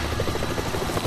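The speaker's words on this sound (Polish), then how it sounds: "To helikopter." A helicopter's rotor thumps in a rapid, steady chop with a broad engine roar, fairly close and continuous for a second.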